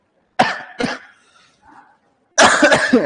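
Two quick coughs close up, a faint rasp, then a longer harsh cough burst.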